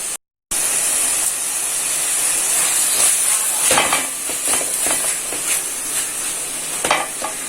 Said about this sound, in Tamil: தக்காளியை சேர்த்துட்டு இதோட தக்காளி வேகிறதுக்காக கொஞ்சம் உப்பு சேர்த்துக்கலாம்